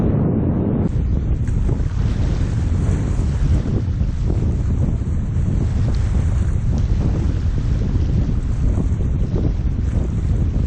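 Strong wind gusting over Waranga Basin lake at twilight, a loud, continuous roar buffeting the microphone with water washing underneath.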